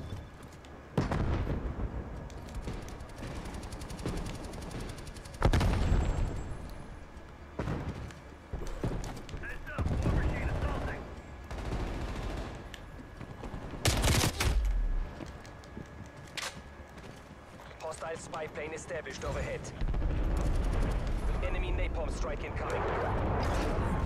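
Rapid gunfire and explosions from a first-person shooter match, sharp bursts and loud booms scattered across a busy game soundtrack, with a player talking over much of it.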